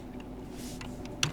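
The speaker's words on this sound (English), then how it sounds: "inside this browser you have to" Soft keystrokes patter on a computer keyboard in a quick, faint run, ending with a slightly sharper key press.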